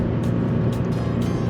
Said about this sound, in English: this muffler sounds so good